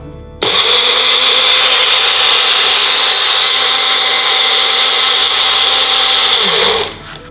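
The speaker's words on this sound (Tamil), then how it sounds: "இதை இப்போ நம்ம அரைச்சிடலாம்." A kitchen mixer grinds banana, cinnamon powder, milk and sugar candy into a drink, starting abruptly with a loud, steady high-pitched whir that holds for about six seconds before spinning down.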